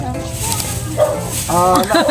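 A dog barks and yelps briefly at a roadside stall selling fish from a rolling vendor's cart, close by and mixed in with people talking.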